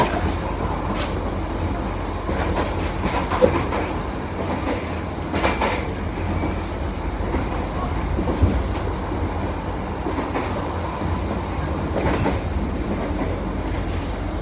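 A Tegal Bahari business-class train rumbles steadily along the rails, with rhythmic clickety-clack of wheels over joints and a continuous low carriage roar heard from inside, loud and close throughout.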